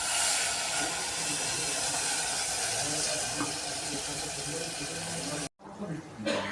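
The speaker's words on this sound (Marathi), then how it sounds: "आता आपण हे वाटणाचं पाणी टाकून घेऊ." Masala water is poured into a hot pan of stir-fried bitter gourd, producing a loud, steady hissing rush that cuts off abruptly, followed by a quieter bubbling simmer.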